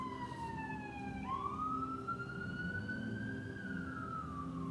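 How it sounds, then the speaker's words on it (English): An emergency vehicle siren wails outside, a faint and distant tone that slides down, jumps back up and rises slowly into a sustained, wavering howl over low street rumble. "With these sirens and this emergency out here"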